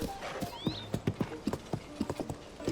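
Horse hooves clip-clop in a steady, fairly close rhythm at a stable in Zelda: Tears of the Kingdom, with a brief whinny early on.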